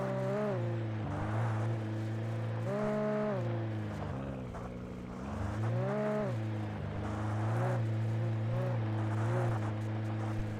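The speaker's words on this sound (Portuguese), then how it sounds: "Um barulho estranho desse carro, né, mano?" Car with a failing engine in Alan Wake Remastered: a loud, rough engine note surges and sags repeatedly, with uneven revving swells across the whole stretch and no talking.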